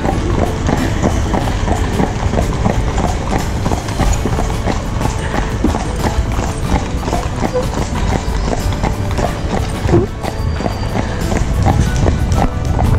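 Horse-drawn carriage rolling through the streets of Seville, with a steady running patter of hooves and wheel rumble throughout, heard close and continuous while people talk over it.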